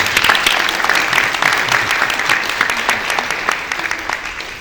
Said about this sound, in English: A big round of applause for Jane Fleischer.